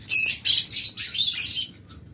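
A flock of Opaline lovebirds at a breeding farm chirps in quick bursts, with bright, close twittering calls overlapping for a couple of seconds before fading.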